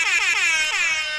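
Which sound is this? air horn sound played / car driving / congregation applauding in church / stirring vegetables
air horn sound played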